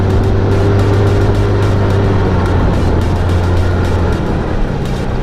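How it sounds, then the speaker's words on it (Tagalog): A Kymco Super8 125 scooter being ridden, its small engine droning loud and steady up close, blended with wind rush. "Malakas ang aming motor."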